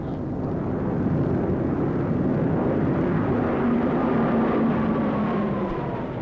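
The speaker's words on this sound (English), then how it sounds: "These are Japanese planes." A steady, loud droning roar of World War II Japanese propeller aircraft engines, constant throughout with a faint tonal whine riding on top.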